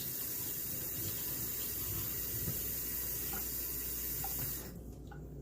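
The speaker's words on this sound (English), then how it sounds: "you don't have to put too much water in, even though you are going to be pressuring it" Tap water runs in a steady gush into a pot holding chicken legs for a pressure-cooked dinner, continuous and close, then the flow shuts off near the end, leaving a quieter tail.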